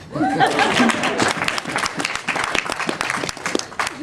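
An audience at a Rotary installation banquet applauds: a burst of dense, close clapping that thins into scattered claps, with some laughter and voices mixed in.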